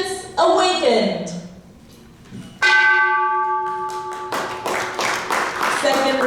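A peace bell is struck with a mallet at a United Nations Day of Peace ceremony. Two loud strikes ring out with long, resonant tones that fade slowly, and a crowd can be heard in the background.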